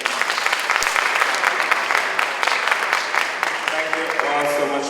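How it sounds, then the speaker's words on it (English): An audience at a poetry event claps in a full round of applause, with a voice heard talking toward the end as the clapping thins out. "Round of applause to everybody."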